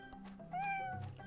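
A short, quiet meow from a cat in the farming video game Pumpkin Days, a single rising-and-falling call lasting about a second with no talk over it.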